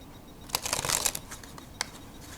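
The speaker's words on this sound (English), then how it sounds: "It's a little bit weird when I shuffle it because it almost feels like there's cards sticking together" Cards from a beveled De Land's deck riffle in a quick burst of crisp flutters, with a few lighter snaps trailing after; close and fairly quiet against a soft background hiss.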